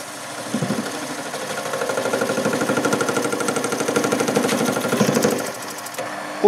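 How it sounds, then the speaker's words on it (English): A tool spun up on an HMV Studio 7 radiogram, model T3-45, being wound in to cut a 25 millimeter disc gives a steady, loud rhythmic chattering grind that runs for about five seconds, then stops abruptly. "Now I should be able to wind this in, and this should cut a 25 millimeter disc."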